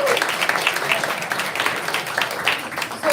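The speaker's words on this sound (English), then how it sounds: "let's clap again" An audience at a live paperback book launch claps together in a brief, lively burst, many hands at moderate loudness with faint voices mixed in, continuous throughout.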